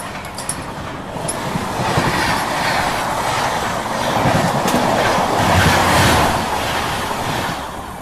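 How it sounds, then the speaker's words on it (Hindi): Another train passes close by, heard from inside a moving Ranchi Rajdhani Express coach: a loud, steady rush of wheels and rail noise with clickety-clack rhythm swelling and fading over several seconds, with no talk. "तो ये पता नहीं कौन सी ट्रेन अभी क्रॉस हुई"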